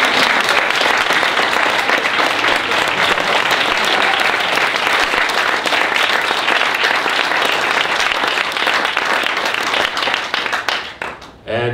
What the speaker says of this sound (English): I would like to invite everyone to give a round of applause to all of you out there.